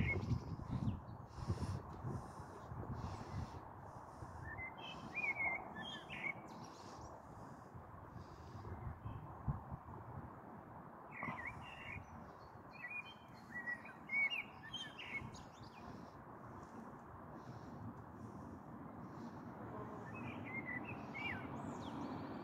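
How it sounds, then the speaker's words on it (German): A common blackbird and a fieldfare sing together in a tree, bright chirps and warbled phrases scattered through the stretch, fairly distant and quiet over faint wind noise. "Amsel und Wacholderdrossel machen jetzt ein Konzert auf dem Baum."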